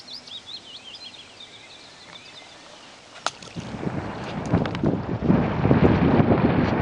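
Strong wind gusting across an Irish lough during a fishing trip, roaring and buffeting the microphone from around the three-second mark after a calmer start with birdsong, building louder toward the end.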